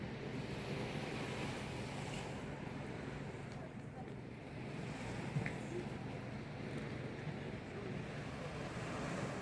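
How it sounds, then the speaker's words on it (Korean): Steady surf rushes continuously onto a sandy beach at Gajin, Goseong, with wind noise on the microphone and a voice talking softly underneath. "지금 여러분들은 들리실지 몰라도 파도 소리가 들려요."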